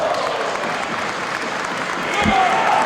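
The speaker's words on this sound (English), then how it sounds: "Listen to the crowd, Mike Z." A wrestling crowd at an IWA Mid-South championship match cheers and applauds steadily in a large room. The noise swells toward the end, and a commentator's voice runs over it.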